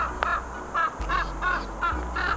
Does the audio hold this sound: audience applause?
no